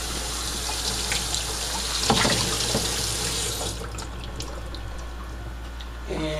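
Tap water runs steadily into a wine fermenting bucket as it is rinsed out, a continuous close splashing and gushing flow that thins out near the end.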